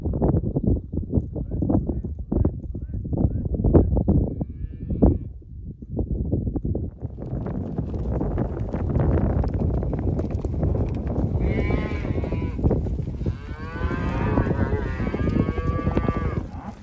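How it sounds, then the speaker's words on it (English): Cattle moo repeatedly at a ranch branding day, loud and close, with drawn-out calls overlapping amid shuffling and background commotion. "Cows, hey!"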